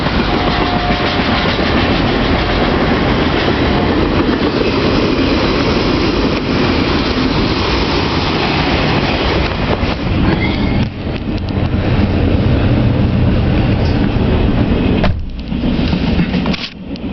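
A Norfolk Southern 26M special freight train of auto racks rolls steadily past close by, a continuous loud rumble with wheels clattering over rail joints for the full length, no voices heard.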